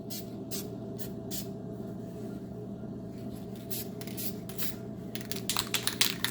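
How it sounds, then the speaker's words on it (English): Flat black paint sprays from an aerosol can in a series of short hissing bursts, close and quiet at first, then quicker, louder spurts toward the end over a low steady hum. "Keep shaking the cans and lots of nice light coats."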